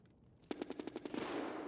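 Rapid burst of MP9 submachine gun fire in Escape from Tarkov, about ten sharp evenly spaced shots over roughly a second, loud and close, fading into a lingering echoing tail.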